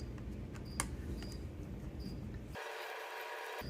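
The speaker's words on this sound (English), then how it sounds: "take out these three screws right here" Small screws being turned out of the back of a Minolta Maxxum 7 film camera, making faint, close, intermittent ticking and clicking against a low background hum, with no talking.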